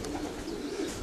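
Pigeons coo and call outdoors during a flock's return flight, a soft continuous murmur of birds at moderate distance with no voices over it.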